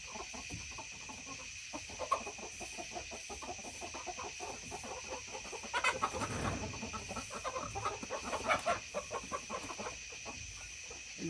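Chickens and a rooster cluck and mutter inside a coop of olive egger and Easter egger hens, a steady low chatter with a few louder squawks and rustling in the middle.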